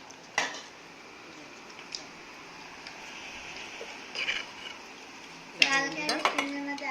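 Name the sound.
serving handi mutton from pot onto plate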